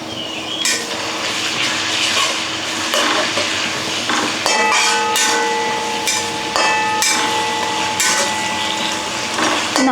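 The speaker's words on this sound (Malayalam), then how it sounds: "പിന്നെ കുറച്ച് കറിവേപ്പില ഇട്ട് കൊടുക്കുന്നുണ്ട്." Curry leaves dropped into a pan of hot oil while making kadala upperi, a chickpea and coconut stir-fry, give a steady crackling sizzle with clinks of utensils and metallic scraping running throughout, near and fairly loud.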